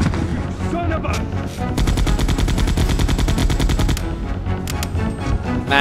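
Sustained automatic gunfire in the survival horror video game Resident Evil 2, loud and dense, with rapid bursts of shots running through most of the stretch and a few scattered single shots near the end.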